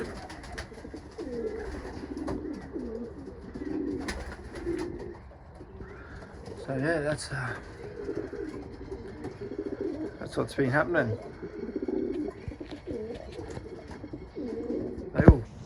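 Racing pigeons coo softly in the background while someone talks over them, with occasional rustling and fluttering nearby.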